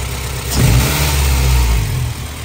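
A rebuilt Honda Civic VX's B18C Type R engine idles loudly close by, then rises into a short rev that holds briefly before settling back down.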